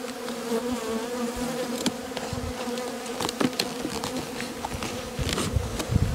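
Bees swarm and rob a dead-out hive in an apiary, a steady, dense buzz of many insects close by, with scattered louder passes of individual bees throughout.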